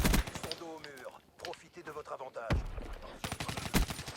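Bursts of rapid gunfire from the video game Black Ops 3, loud and close, broken by short pauses, with someone talking over and between the shots.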